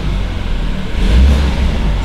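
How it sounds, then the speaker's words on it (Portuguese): A BMW Z4 engine is revved up close, a loud low rumble that swells in the middle and then eases back, with no voices over it. "Dá uma acelerada pra você ver."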